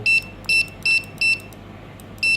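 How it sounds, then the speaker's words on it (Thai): A CINO F-790WD wireless Wi-Fi barcode scanner gives five short, crisp electronic beeps, each marking a scan, in a quick, even rhythm against a faint background hum. "ถ้าบาโค้ดคมชาร์จก็จะยิงเร็วนะครับ"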